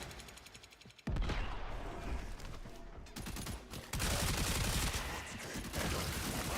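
The Stug weapon firing in the sci-fi shooter game Warframe, a loud, sustained stream of rapid shots starting abruptly after a quieter second and continuing with brief breaks, close and dense.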